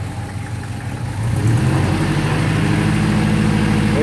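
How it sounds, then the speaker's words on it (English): A motorcycle engine idles steadily in a car museum in Maricopa, Arizona, a loud continuous low rumble that rises slightly in level partway through and holds on without talk. "Motorcycle engine."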